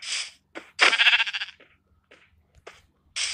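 Sheep bleating in the Minecraft video game: several short, bright bleats in quick bursts, one longer wavering call in the middle, with pauses between, close and clear.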